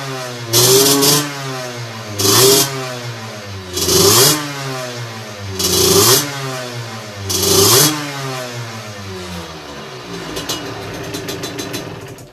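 A moped engine with a 17.5mm carburetor revved hard five times in a row, each burst rising sharply to a loud high-pitched wail and falling back, close and alone, ending in a lighter rattling idle.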